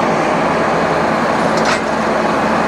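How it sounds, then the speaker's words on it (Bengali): A train locomotive on the Kanchan Kanya Express (13149), uncoupled from its compartments, pulls away with a steady, loud rumbling drone that holds throughout without any clear change. "এই ইঞ্জিন চলে যাচ্ছে।"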